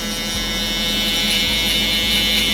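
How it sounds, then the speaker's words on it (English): An electric shaver gently tapped along a high-fade hairline during a barbershop haircut gives a steady, close, continuous buzz with a low mains-like hum beneath it, with no talking. "So then we can go in with our shaver now."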